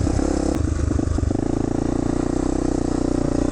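A four-wheeler ATV engine runs hard and steady during a wheelie, a loud, close, buzzing drone with a rough pulsing rhythm and no talk over it.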